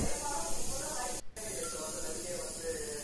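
Rava (semolina) roasting in oil in a pan for rava pongal, a steady soft hiss and sizzle running throughout with one brief dip partway, fairly quiet and even.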